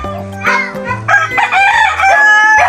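A stray rooster crows loudly and close by in the morning, its drawn-out cock-a-doodle-doo rising over a steady low hum.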